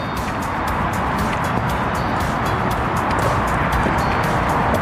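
Continuous heavy traffic roar from the M60 Manchester Orbital motorway below a footbridge, loud and close. Vehicles blur into one unbroken rushing wash of tyre and engine noise, with no one talking.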